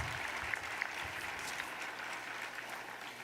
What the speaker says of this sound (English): Yes, do applaud for that.